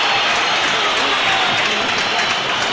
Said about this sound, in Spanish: Pudieron más los aplausos que los pitos.